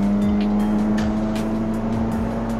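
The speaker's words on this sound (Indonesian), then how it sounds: "untuk di lurusannya mesin K14B 1400 ini enak juga, DOHC ya" A 2013 Suzuki Swift with a 1400 cc K14B DOHC engine and modified exhaust accelerates on a straight, a loud close engine drone with repeated rising pulls through the gears and no talking.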